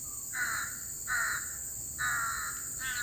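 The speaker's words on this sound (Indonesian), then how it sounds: "Tuh burung gagak." Crow cawing outdoors near a field of eggplant crops, four loud harsh calls spaced about a second apart over a steady high-pitched insect hum, with no talking.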